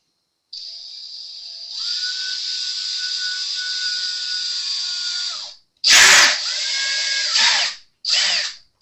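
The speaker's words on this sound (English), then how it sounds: "Get your drill right in the middle of your black mark." A power drill whirs steadily for several seconds drilling a small pilot hole in a bass guitar build, stops, then fires up again in two shorter bursts.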